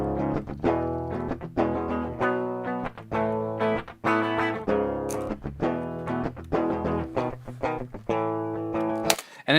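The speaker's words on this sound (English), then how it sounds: "show you what they sound like" Heavy rhythm electric guitars looped dry with no effects, playing a steady chugging pattern of sustained chords with brief gaps, loud and alone.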